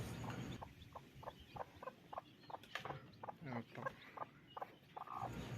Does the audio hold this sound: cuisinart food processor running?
no